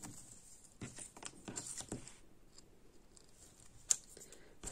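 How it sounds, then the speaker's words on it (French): Scissors trim excess material from a small gift box craft, a quick run of soft close snips followed by a single sharper click, faint and with no talk. "Hop, on va couper l'excédent."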